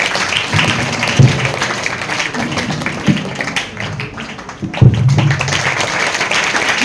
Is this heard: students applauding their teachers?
yes